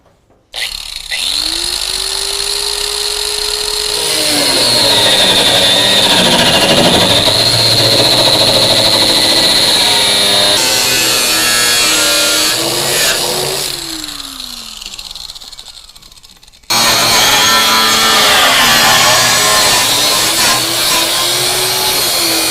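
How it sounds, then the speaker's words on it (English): A power tool cuts out a section of a truck frame channel during a lowering-kit notch install, a loud sustained whine that rises and falls in pitch as the blade bites, pauses briefly, then resumes, with no talk. "we're just going to cut this part of the channel out and get rid of that"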